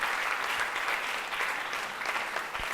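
Audience applause at a high school cooking competition final, steady clapping from a crowd held at a constant level for nearly three seconds, with no talking over it.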